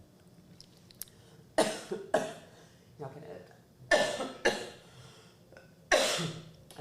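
Several loud, close coughs in separate bursts, some paired, with a brief spoken word among them in a quiet indoor podcast setting.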